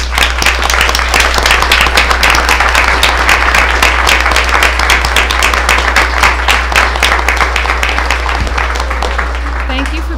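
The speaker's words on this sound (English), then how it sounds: "please stand so we can applaud your efforts" An audience at a school board meeting applauds students' families and teachers, sustained loud clapping at a steady level for about ten seconds over a low electrical hum, with voices mixed in.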